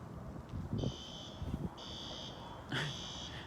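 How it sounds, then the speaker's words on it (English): An electronic alarm sounds in three separate bursts of high, buzzing beeps, with low thumps and background noise between them. "this alarm is going to stay going off"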